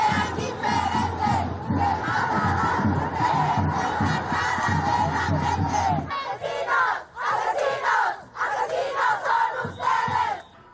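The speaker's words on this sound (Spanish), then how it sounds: "cientos de mujeres que caminaron desde la sede de la policía de la Ciudad de México hasta la fiscalía local, gritando consignas" Hundreds of women protesters march from police headquarters to the prosecutor's office in Mexico City, a dense crowd chanting and shouting slogans loudly and continuously, swelling into rhythmic bursts of rallying cries.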